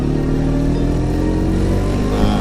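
Vespa Sprint scooter engine pulls away in second gear, a steady mid-pitched motor hum with a low buzzing drone held close and loud throughout, no voices present.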